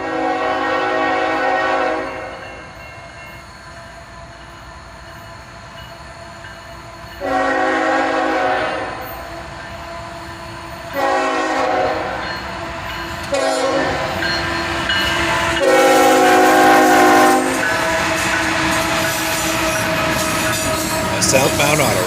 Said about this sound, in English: A southbound auto rack job, led by an ES44 ACH